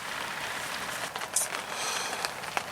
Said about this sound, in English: the rain has just started again